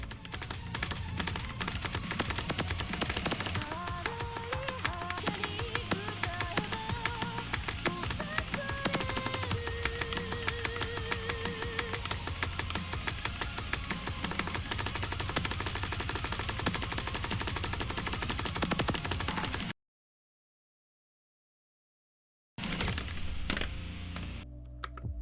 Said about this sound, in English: the keyboard is equipped with blue switches